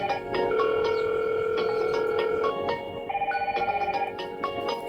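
A Hikvision IP intercom doorbell rings with a steady electronic melody of sustained tones, then shifts to a quicker pulsing tone pattern, close and clear with no talking.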